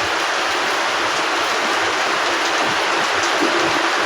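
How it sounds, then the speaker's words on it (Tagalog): Loud, constant wash of heavy rain pouring down nearby, with scattered patters and drips within the steady roar. "Sobra pang lakas ng ulan"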